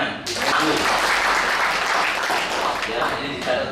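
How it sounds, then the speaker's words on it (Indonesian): Members at a cooperative's annual general meeting give a sustained round of applause, loud and even throughout, with voices mixed in beneath the clapping. "Terima kasih, tepuk tangan."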